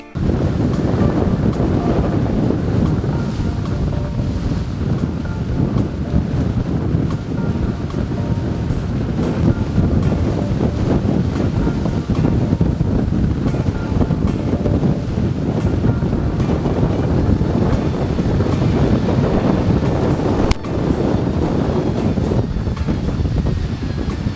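Loud, constant roar of Hurricane Michael's wind battering the microphone over crashing surf in Florida, a dense unbroken rush of noise with no voices.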